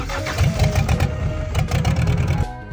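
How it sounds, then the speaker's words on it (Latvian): A car's electric starter motor cranks the engine with a rapid rhythmic chugging whir, close and loud, pulsing for over two seconds before cutting off abruptly. "Kas ar elektrisko spēku, tad, kad pagriež atslēgu, iegriež dzinēju,"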